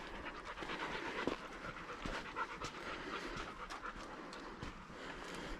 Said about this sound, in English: You're such a wonderful little dog.